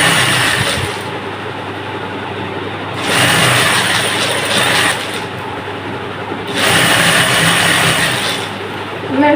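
A sewing machine stitching fabric pieces together for an Iro and Buba garment, whirring in two sustained bursts of about three seconds each, separated by quieter pauses, loud and close.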